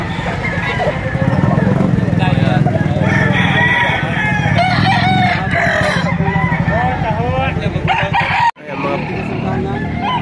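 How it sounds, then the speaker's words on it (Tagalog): Roosters crow repeatedly and chickens cluck at a Philippine fowl seller's yard, loud and close, with someone talking over the birds and a motorcycle faintly nearby. "kunan natin ang manok ng Boss Melvin."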